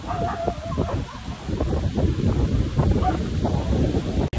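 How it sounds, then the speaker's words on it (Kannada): Strong wind with rain batters the microphone in loud, rumbling gusts that roll on without a break. "ಆಗಲೇ ಗಾಳಿ ಮಳೆ ಶುರು ಆಯ್ತು"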